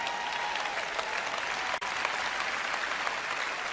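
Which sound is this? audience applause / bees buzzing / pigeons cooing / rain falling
audience applause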